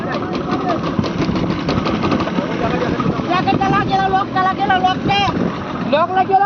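A trawler boat out on the sea at Digha, its engine droning steadily beneath loud wind buffeting the microphone, while people's voices and shouts carry over the noise throughout.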